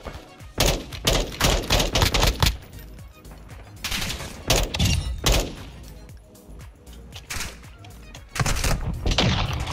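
Gunfire in the video game Call of Duty: MWII DMZ, loud machine-gun bursts in several clusters with short gaps between them, with faint talk in the quieter moments.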